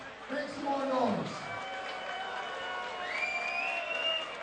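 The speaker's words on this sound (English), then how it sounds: "A big round of applause for all of my officials" Crowd at a live fight event applauds and cheers for the officials, a moderate wash of clapping and noise beneath a loud announcer's voice that carries through most of the stretch.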